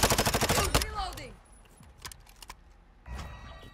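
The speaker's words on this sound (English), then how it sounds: "Stop shooting me!" Rapid automatic gunfire in Call of Duty Modern Warfare 2, a loud burst of shots followed by scattered single cracks and a second burst, with a voice briefly underneath.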